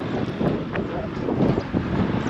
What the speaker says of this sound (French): Alors il y a un peu de vent, j'espère que ça va pas être gênant pour le son.